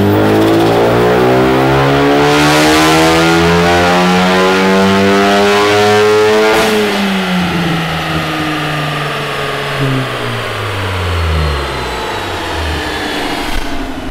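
Car with a cold air intake revving on a dyno run, a loud steady engine climbing through the revs to a peak, then winding down with falling pitch, no talking.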